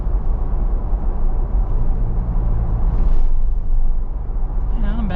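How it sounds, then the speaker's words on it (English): Steady low road rumble and tire drone fill the cabin of a 2025 Ford Bronco Outer Banks Sasquatch with a 4-cylinder engine on 35-inch tires, a constant wash of noise with a brief voice near the end. "the Bronco, just like the Wrangler, isn't going to have as much insulation inside, so you are going to hear more road noise"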